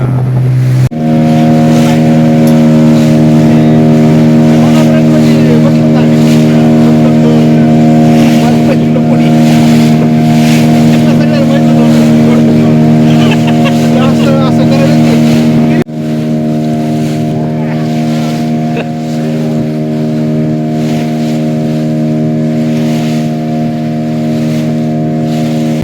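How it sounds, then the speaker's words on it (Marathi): A motorboat engine runs on the sea with a steady, loud, continuous hum and strong layered tones, close by and unbroken apart from a brief shift partway through. "आता आमची बोट सुरू झाले"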